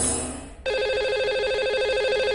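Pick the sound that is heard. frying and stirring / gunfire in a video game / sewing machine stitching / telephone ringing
telephone ringing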